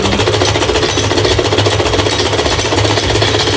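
A sewing machine stitches along buckram for a salwar hem, a loud, continuous rapid mechanical rattle that holds steady from start to finish.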